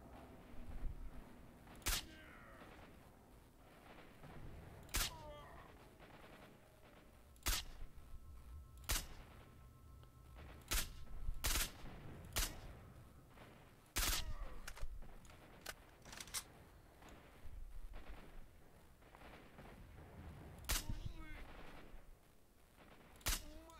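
Gunfire in the video game S.T.A.L.K.E.R.: Shadow of Chernobyl, a series of sharp single shots spread irregularly over about twenty seconds, each a loud crack standing out from quiet background ambience, with no talk.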